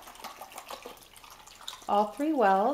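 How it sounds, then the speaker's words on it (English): Water poured from a bottle into small face-paint wells: a short, bright, gurgling fill with rising, ringing tones, coming right after a stretch of talking. "I take my bottle of water and fill it up"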